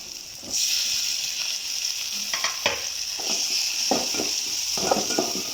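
Tomatoes sauté with golden fried onions in a pan for vatha kuzhambu, a steady close sizzle with repeated scraping and clinking of a spoon against the pan, and no voices.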